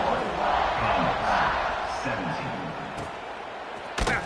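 Football stadium crowd roaring steadily ahead of a kickoff, a broad sustained cheer that swells and eases slightly, with a sharp burst near the end.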